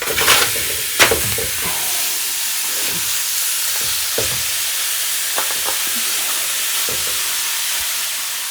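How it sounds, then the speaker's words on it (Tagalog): Pork pieces hit a preheated pan for a boiled pork dish, giving a steady close sizzle throughout with a few sharp crackles and stirring clatters near the start. "Nakapreheat na ang ating kawali at ilunod na natin ang ating pork."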